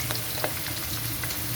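Mushrooms, shrimp and chicken fry together in a pan for vegetable chow mein, giving a steady, close sizzle with a few soft stirring scrapes and no voices.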